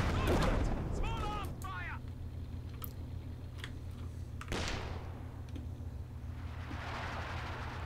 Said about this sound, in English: here comes The walking Stuka targeting the anti-tank gun